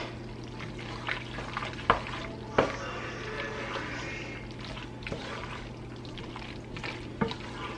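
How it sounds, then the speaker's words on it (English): Canned sweet peas are stirred into a pot of simmering food with a spoon, producing soft wet sloshing and a few sharp knocks against the pot, a gentle, close sound with no talk. "So just kind of stir that all up."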